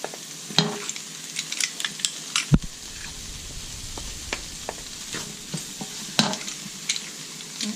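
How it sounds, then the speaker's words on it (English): Onions, green pepper and garlic sauté in a pan for picadillo, a continuous close sizzle punctuated by sharp clinks and scrapes of a utensil stirring against the pan. "So you have your onions, the green pepper, and the garlic sauteing here."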